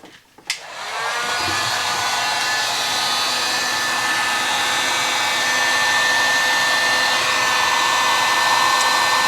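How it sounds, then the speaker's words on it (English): Heat gun shrinking heat shrink tubing over a wire while installing a concentric Jazz Bass control plate, a steady loud blowing roar that starts abruptly after a click and runs continuously, alone without talk. "I'm going to use a heat gun to shrink this wire"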